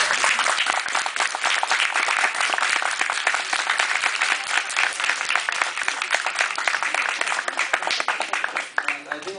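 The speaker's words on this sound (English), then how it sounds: "One more applause." Loud, sustained applause from a large film festival audience at a Q&A session, dense steady clapping that holds throughout and thins slightly at the end.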